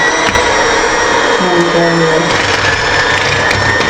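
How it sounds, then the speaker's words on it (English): A electric hand mixer whirs steadily in a deep bowl while a cheesecake is made, a loud continuous motor drone with a slight pitch shift midway. "I've never used a mixer before in my life, a hand mixer."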